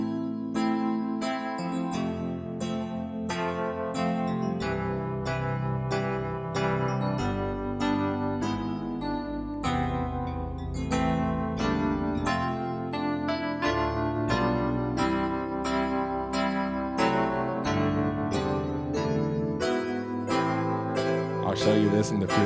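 Solo piano playing gospel jazz passing chords, a continuous flowing stream of rich struck chords and moving melody lines at steady moderate loudness, with no talk.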